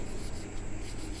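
Pen writing on paper during a Class 9 mathematics lesson on number systems, a soft continuous scratching and rubbing that runs steadily through the whole moment with no voice over it.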